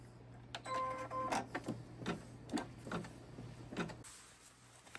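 An embroidery machine stitching a patch, a quiet rapid mechanical ticking and clattering of the needle with a faint steady motor hum underneath.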